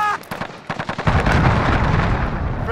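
A cruise missile explosion in Call of Duty Modern Warfare, a loud booming blast with rumbling tail that follows a rapid burst of gunfire.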